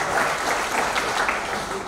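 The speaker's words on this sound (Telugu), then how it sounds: "ఒకసారి విక్రమ్ రెడ్డి సార్ గారి కోసం ఒక్కసారి చప్పట్లు కొట్టారా" Audience clapping for a speaker at a gathering, a steady dense wash of applause from many hands, loud and close, with voices mixed in.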